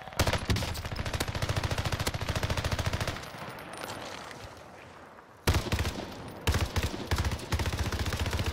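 Rapid automatic gunfire in Warzone, a sustained loud burst of closely spaced shots, a brief lull with quieter shooting, then more heavy bursts resuming up close.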